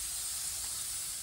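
An Ozark Trail 4-in-1 propane camp stove burner hisses with a steady, close, broadband rush of gas that holds constant throughout with no other sounds.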